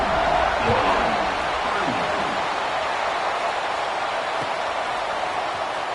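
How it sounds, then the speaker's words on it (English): Stadium crowd noise in the College Football 26 video game, a dense continuous roar of cheering fans that holds steady throughout, with faint commentary-like voice traces underneath. "this crowd is feeling themselves after that last drive"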